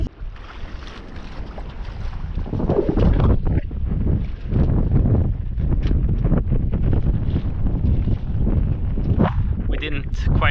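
Strong wind roaring across a sailboat at sea, loud buffeting gusts hitting the microphone with water and rigging noise beneath, continuous and close throughout.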